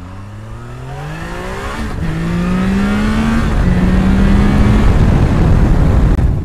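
A Triumph Tiger Sport 660 three-cylinder motorcycle engine revs up repeatedly, its pitch climbing in steady sweeps, loud and close with a rough mechanical roar throughout.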